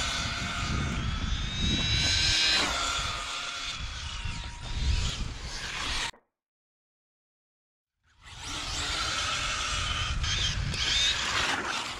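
An Arrma rally-style RC car rips past, its electric motor whining loud and high with shifting pitch as it accelerates and passes close. The sound cuts out to silence midway, then resumes just as loudly.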